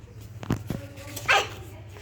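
A dog nearby gives two short, sharp barks, then a higher, whining yelp, with quiet background noise between.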